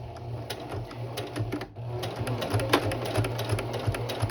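A sewing machine running steadily at a slow pace while back-stitching on a costume vest, its rapid mechanical needle clatter close and continuous with a brief dip partway through.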